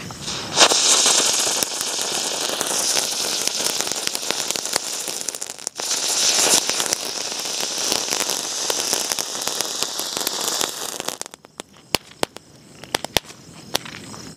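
A Hot Wheel Diwali firework sprays and crackles loudly for about eleven seconds in a continuous hissing shower of sparks, then cuts off, leaving a few scattered pops and faint crackles.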